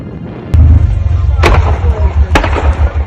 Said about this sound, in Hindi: खार्किव में रूस के हमलों के बाद गैस पाइपलाइन में जोरदार धमाका हुआ